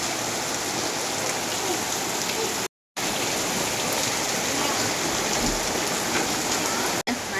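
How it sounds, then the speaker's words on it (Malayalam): Heavy rain pours down in a village, a loud, dense and constant hiss of drops striking surfaces nearby, unbroken apart from a short gap. "അടിപൊളി മഴ"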